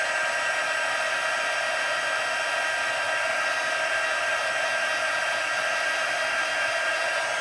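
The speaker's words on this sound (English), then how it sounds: "we'll bring in our Stampin' Up! Heat tool one more time." A Stampin' Up! heat tool blows steadily while heat-setting silver embossing powder, a continuous close hair-dryer-like whoosh at constant loudness with no breaks.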